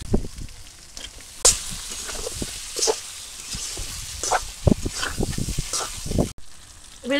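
Potatoes sizzle and spatter in a hot village kitchen pan as they are added, with scraping stirs and irregular crackling bursts at close range, fairly loud, no talking.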